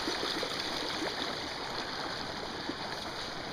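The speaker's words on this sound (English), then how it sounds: "That water flowing there, that's not a creek, that's the trail." Water running down a muddy hiking trail in the Highlands, a steady close rush and gurgle with faint splashes, continuous and fairly loud throughout.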